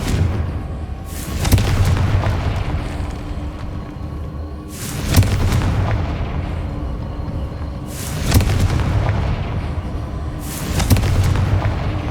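Confringo blast spells explode in the video game Hogwarts Legacy: four loud, booming detonations spaced a few seconds apart, each with a sharp crack that swells into a rumbling tail over a steady background.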